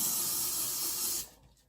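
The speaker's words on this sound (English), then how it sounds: "I do have Lysol spray" Lysol disinfectant spray hisses onto paper towels in one steady, close burst lasting just over a second, then cuts off into quiet.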